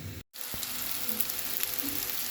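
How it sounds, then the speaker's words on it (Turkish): Meatballs sizzling in a hot frying pan, a steady close hiss of frying after a brief cut of silence at the start. "Köftelerimi de koyacağım cız cız cız"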